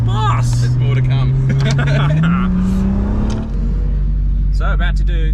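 Turbocharged Lamik drift car engine on the 8HP transmission, revving loud and close with rising pitch and tire and exhaust bursts, a shift in tone midway, voices talking over it.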